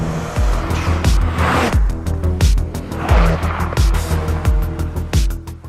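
A 2018 Mazda RX-7 with a twin-turbo 1.3-litre twin-rotor engine being driven hard, its loud, close engine note repeatedly climbing through the revs and dropping at each gear change, with faint tyre noise.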